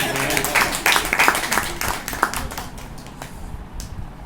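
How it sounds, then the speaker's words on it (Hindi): An audience at a book launch ceremony claps enthusiastically, a dense patter of hands that is strongest early and gradually thins and fades. "इनके लिए जोरदार तालियां"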